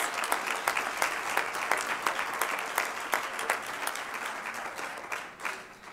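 An audience applauds the 2015 Lifetime Achievement Award winners at a President's Council on Fitness, Sports and Nutrition meeting, a sustained crowd clapping with individual sharp claps poking through, fairly steady and slowly tapering toward the end.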